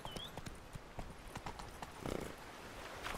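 Roach the horse galloping in The Witcher 3, a fast run of sharp hoofbeats over ground, fairly faint, with a brief whinny-like squeal at the start and a busier patch of movement midway.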